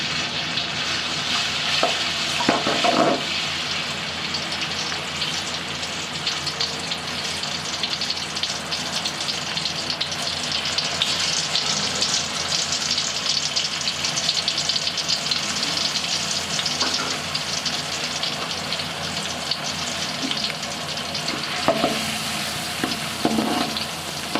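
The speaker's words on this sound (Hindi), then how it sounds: "अदरक लहसुन को अच्छे तरीके से फ्राई करेंगे।" Steady sizzling of ginger and garlic frying in hot ghee, with occasional stirring scrapes and clinks, close up and continuous.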